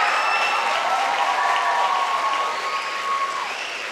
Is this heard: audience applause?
yes